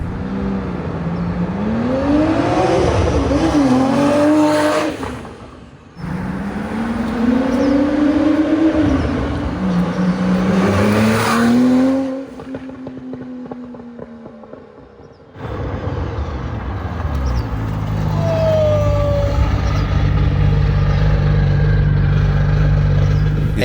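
An 810 hp Gunther Werks Porsche 993 makes several loud pass-bys, each a rising, revving engine howl that sweeps in and fades, separated by brief quieter gaps with traffic rumble.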